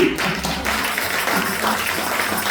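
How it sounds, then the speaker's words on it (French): A church congregation claps to acclaim Jesus during a sermon, the applause dense and steady under a murmuring crowd and faint voices. "Acclamons Jésus."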